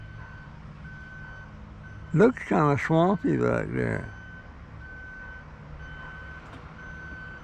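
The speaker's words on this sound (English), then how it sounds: "Oh, it's the garbage truck." A garbage truck's reversing beeper sounds steadily at a distance, faint repeated beeps under a man's brief spoken remark.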